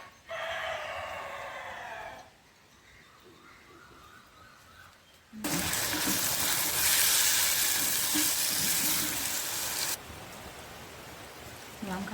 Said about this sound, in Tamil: இப்போ மழை பெருத்து கொண்டு வருது பாருங்க